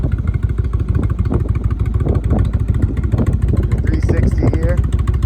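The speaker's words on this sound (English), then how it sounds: "Good running motorcycle." A 2018 Indian Chieftain bagger motorcycle, low-mileage and garage kept, idles steadily up close with a dense, throbbing low rumble that carries through the whole stretch, while someone speaks over it.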